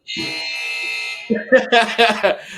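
An electronic buzzer, like a basketball shot clock or fire alarm, blares a sustained harsh tone for about a second before people start talking over the tail of it.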